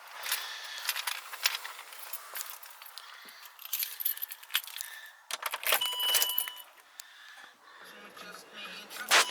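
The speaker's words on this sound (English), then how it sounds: "We'll turn the ignition on, helps Anthony." A key jangles and turns in the ignition of a 2007 Land Rover Discovery 3, with metallic clinks and rattles at close range, several small bursts over several seconds and a voice speaking briefly.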